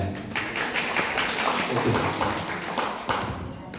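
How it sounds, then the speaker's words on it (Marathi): A live audience at a music group's stage event applauds the grandmother with continuous, fairly close clapping that holds steady for several seconds with a few sharper slaps. "पुन्हा एकदा अजून एकदा आजीसाठी टाळ्या"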